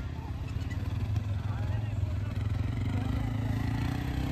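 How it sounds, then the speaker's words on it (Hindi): Snow scooter engine running at Rohtang Pass near Manali, a steady low motor drone with faint revving that stays constant throughout, heard under someone talking. "और ये देख सकते हैं स्नो स्कूटर भी चल पड़ा है अपने गेस्टों को लेने"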